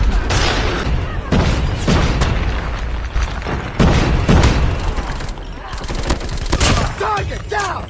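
Booming grenade blast and rapid gunfire from a multiplayer first-person shooter match in Hardpoint mode, with several dense bursts across the clip and bright crackling shots near the end, under voice callouts.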